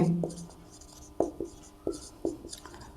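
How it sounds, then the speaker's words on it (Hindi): Pen or chalk strokes during a Hindi class 12 maths lesson, a few sharp taps and scratches spaced through the moment, with a teacher's voice faint in the background. "अब हम लिखेंगे x के"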